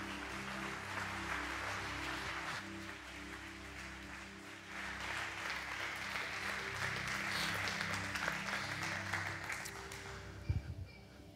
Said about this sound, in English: We'll give the Lord a great big applause of what he has done.